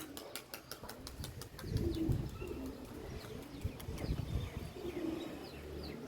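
Pigeons coo softly in low, throaty bursts, close by, with wing flutters and faint ticking sounds in the background.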